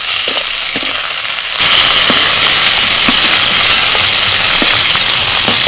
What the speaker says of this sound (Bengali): প্রত্যেক দিনে সবসময় পটল হালকা করে ভাজতে হয়